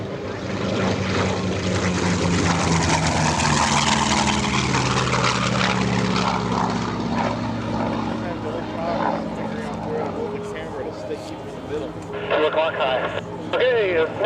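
A propeller-driven warbird from the Class of '45 makes a photo pass at EAA AirVenture 2025, a loud, steady engine drone with a rising and fading roar as it passes, with radio chatter and voices over it toward the end.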